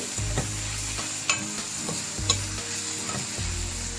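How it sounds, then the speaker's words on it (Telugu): Ginger garlic paste fries in a pan, sizzling steadily while a spoon stirs and scrapes it in short repeated strokes, close and alone with no voices. "ఇదంతా కూడా పచ్చివాసన పోయేదాకా వేయించుకోవాలి"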